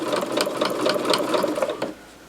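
A sewing machine runs steadily, stitching a seam across fabric for a homemade heat pad, its rapid even needle chatter close and loud for about two seconds before stopping abruptly.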